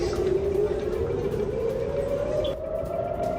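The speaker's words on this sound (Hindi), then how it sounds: "इजराइल के किरियात शमोना में बजे सायरन।" A rocket attack warning siren wails in Kiryat Shmona, Israel, a loud sustained tone slowly rising in pitch and carrying alone across the town.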